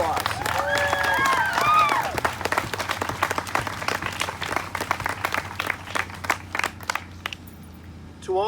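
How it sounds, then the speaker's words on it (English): Audience applause at an anti-racism community event, a dense wash of clapping from a crowd that stays steady for several seconds, with some talk and a few voices over it, then thins out toward the end. "You deserve a round of applause."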